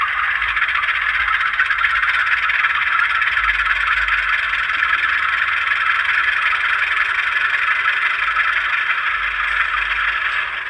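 A scale model sound decoder, fitted with a speaker, plays an Intermountain U18B diesel locomotive idling: a steady, buzzy, somewhat tinny engine drone that holds constant and close throughout.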